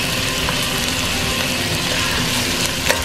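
Mutton biryani masala cooking in a pan for Kannur-style biryani, a steady, close, loud sizzle and bubbling with light scraping as it is gently stirred, with no talking.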